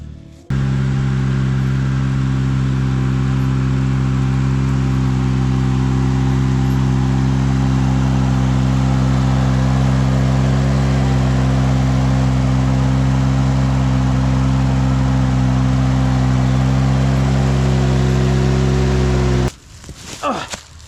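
Tractor engine running steadily on a steep hillside while mowing, a loud, constant low drone with strong harmonics lasting nearly the whole stretch, then cutting off abruptly near the end.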